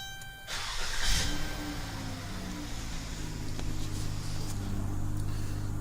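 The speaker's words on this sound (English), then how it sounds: "This is going to trigger remote starting also." A car engine turns over and catches after a factory remote start triggered by three presses of the lock button, then settles into a steady, close idle rumble with no talking.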